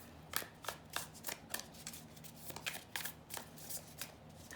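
Tarot cards being shuffled and drawn, a quick series of crisp riffling flicks in an uneven rhythm, close and fairly quiet, with no voices.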